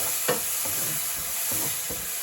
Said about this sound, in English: So just going to give those a couple of minutes for them to stir fry.